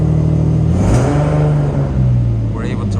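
An Infiniti G37 engine revs up from idle and falls back, a close, loud mechanical rise and drop in pitch, with speech briefly over it.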